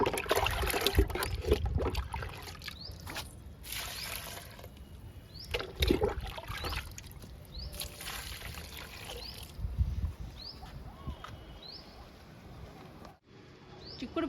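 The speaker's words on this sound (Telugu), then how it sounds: "చిక్కుడు పాదుకి ఇస్తున్నానండి లిక్విడ్ని." Liquid plant tonic poured onto a bean plant in a home garden, a soft trickling splash of liquid coming in short bursts with pauses, close by, alongside light rustling and faint bird calls.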